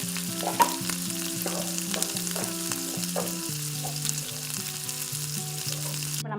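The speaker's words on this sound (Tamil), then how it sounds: "இப்போ வந்து நம்ம புதினா கொத்தமல்லி தலையை போட்டு ரெண்டு பெரட்டு பெரட்டிட்டு" Mint and coriander leaves sizzle and crackle in a hot pan for a sundakkai chutney, with a spoon or spatula scraping as they are stirred, under steady instrumental music.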